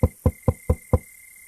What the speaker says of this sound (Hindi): उल्लू घर का दरवाजा खटखटाता है।